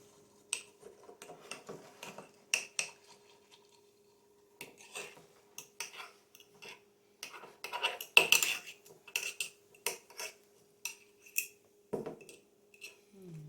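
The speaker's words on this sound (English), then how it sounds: "We're just gonna mix that around a little bit." A spoon or utensil clinks and scrapes against a bowl while food is mixed around for a healthy meal prep, giving irregular bursts of close, crisp clatter with short pauses and no speech.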